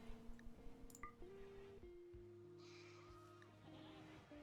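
Faint sheep bleats from a video game, a couple of short wavering calls heard quietly over steady droning background tones and game sounds.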